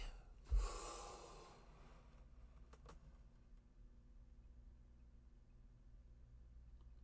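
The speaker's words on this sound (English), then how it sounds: "Take a breath with me." A single deep breath drawn in sharply through the nose, a loud close rush of air followed by a long quiet stretch with faint room noise and a couple of small clicks.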